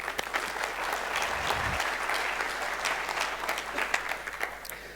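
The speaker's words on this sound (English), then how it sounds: "So let's applaud them all." Sustained applause from a conference audience at a CIO innovation talk, dense steady clapping throughout with no voices over it.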